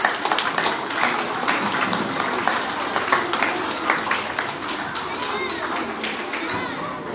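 Audience applause for a teacher at a school award show, a dense, steady patter of many hands clapping throughout, mixed with crowd and children's voices.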